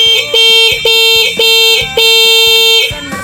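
A loud electronic horn on a Yamaha Mio i125 motorcycle blaring in repeated short bursts with a steady rhythm, close by, with no voices.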